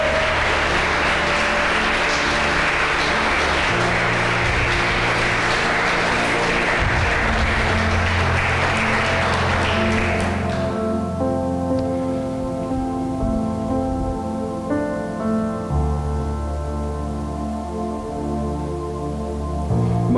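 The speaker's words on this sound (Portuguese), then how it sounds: "Você pode aplaudir a Deus por isso?" A church congregation claps loudly and steadily for about ten seconds during a service, then the applause drops away, leaving sustained instrumental music tones playing on alone.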